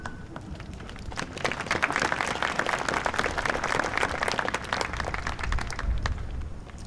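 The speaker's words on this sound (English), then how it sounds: "Again, a round of applause for all of our dignitaries and our military guests." Sustained applause from a crowd at an outdoor Veterans Day ceremony in Belleville, Illinois, steady dense clapping lasting several seconds at moderate distance.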